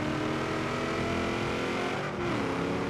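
A Pontiac GTO Judge accelerates away in Forza Horizon 3, its engine holding a loud, near, rising roar with a brief dip as it shifts, then pulling on strongly, with no talk.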